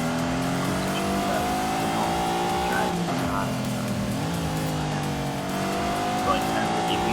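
A Lamborghini V12 in The Grand Tour Game racing video game holds a loud, steady engine howl, pitch sliding down and climbing again through shifts or corners, with someone talking over it.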